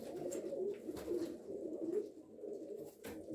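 Breeding pigeons of marbled, blue and yellow colouring coo steadily in a loft, their low rolling calls overlapping close by with a few soft rustles.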